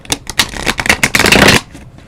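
A new deck of tarot cards being shuffled by hand, a close, loud run of rapid riffling flutters and soft card slaps lasting about a second and a half before fading out, with no talking.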